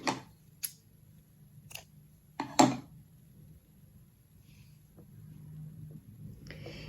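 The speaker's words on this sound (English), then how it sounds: "we're going to cut our ends here" Scissors snip yarn ends on a crocheted rupee pouch, a few short sharp clicks spread over several quiet seconds.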